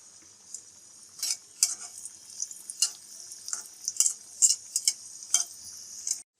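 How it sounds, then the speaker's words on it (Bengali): Potato-flour snacks fry in hot oil in a wok while being stirred and turned, a soft steady sizzle broken by scattered scraping and clinking stirs close by, with no talking. "এই পর্যায়ে আমি এগুলোকে একে একে ভেজে নেব।"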